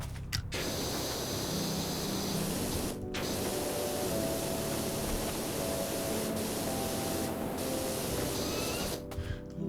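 A pressure washer in PowerWash Simulator hisses in a continuous loud spray, cutting out briefly a few times between long bursts, with no voices present.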